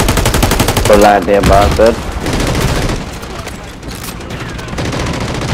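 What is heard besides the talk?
sentry gun firing in Call of Duty video game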